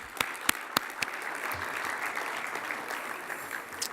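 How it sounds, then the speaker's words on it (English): Audience clapping at an awards luncheon for a hall of fame induction, steady applause from a seated crowd with a few sharper close claps standing out, and no speech over it. "So let's everybody give them a round of applause."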